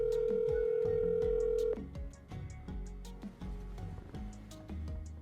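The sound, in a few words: phone ringing tone while calling someone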